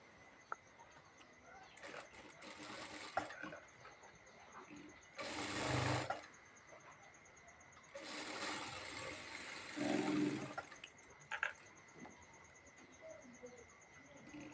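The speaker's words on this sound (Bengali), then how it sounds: "তারপর আমরা উপরে আবারও সেলাই করে জয়েন করে নেব।" A sewing machine stitches a cloth face mask in several short, fairly quiet whirring bursts separated by pauses, over a soft background hiss.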